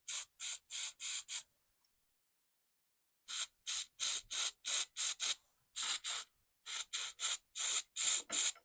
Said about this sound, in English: I'll spray it out with some carb cleaner